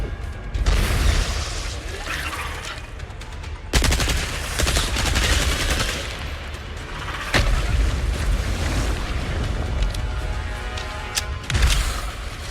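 Heavy gunfire and booming blasts ring out in Resident Evil 4 Remake as shots are fired at an orb, dense, loud bursts with sharp impacts under a continuous game soundscape.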